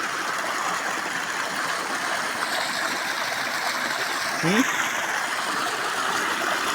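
Water rushes steadily through an irrigation channel by orchards in October, a broad continuous near hiss with a faint brief chirp partway through.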